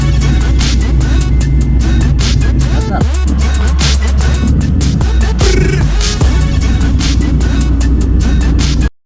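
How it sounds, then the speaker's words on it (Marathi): A vehicle carrying a group of six to a cricket tournament rolls along the road with a steady, dense engine and road roar that fills the whole stretch, loud and close throughout. "तर आता आपली गाडी आलेली आहे"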